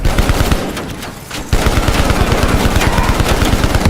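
Sustained automatic gunfire in the Call of Duty: Black Ops Cold War urban combat firefight, a loud continuous rattle of rapid shots broken by a brief lull, then resuming hard and steady.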